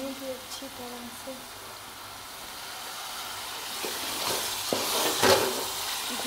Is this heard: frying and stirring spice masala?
yes